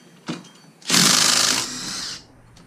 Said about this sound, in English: We're going to have to start by taking off this variator, and the impact wrench is one of the only ways to really do it.